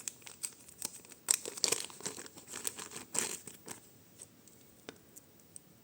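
Plastic crinkles and rustles up close in irregular bursts, with brief crackling peaks as a small bag of vintage jewelry is handled and pulled open.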